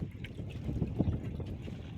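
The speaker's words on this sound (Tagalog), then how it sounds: "nagalakas din yung hangin mga idol at saka yung alon" Strong wind buffets the microphone aboard a small fishing boat at sea, with a steady low rumble of gusts and water against the hull, no voices over it.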